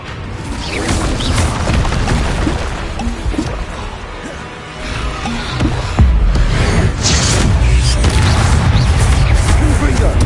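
Explosive Confringo and Bombarda spells cast in Hogwarts Legacy, a series of loud booming blasts and crashing impacts under spoken spell incantations, close and heavy.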